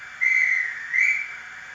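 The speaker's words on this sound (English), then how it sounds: "the dispatch whistles will be at the front of the train" A dispatch whistle from the sound system of a Class 450 model train sounds as two short, clear, shrill blasts in quick succession, near and distinct against a quiet background.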